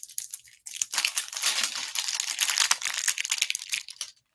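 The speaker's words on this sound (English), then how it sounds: "Unwrap and break open your alien ooze egg." Plastic wrapping crinkles and crackles continuously for several seconds as an alien ooze egg toy is unwrapped and broken open, close and fairly loud, with no talking.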